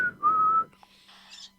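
A person whistles a short rising-then-level note, followed by a fainter, higher whistled trill. Both are close and loud, with nothing else behind them.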